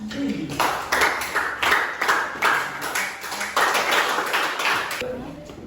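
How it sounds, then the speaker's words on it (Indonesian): A small classroom group claps in short bursts of uneven hand claps, close by, with pauses between the bursts and a few voices mixed in. "Silakan beri tepuk tangan."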